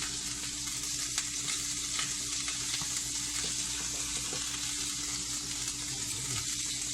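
Food sizzles steadily in a frying pan being turned over by hand, a constant close hiss of hot oil running unbroken throughout with no talking.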